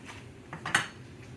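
A metal spoon scrapes and clinks inside a non-stick pan of simmering blue crab bisque with sherry, with a few soft strokes and one sharper clink close by.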